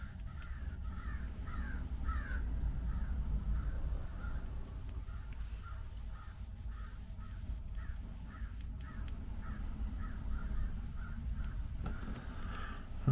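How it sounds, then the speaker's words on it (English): A crow caws in repeated short harsh calls at a steady rhythm, moderately distant outdoors over a low background rumble, with no talking. "Do you hear the crow right there?"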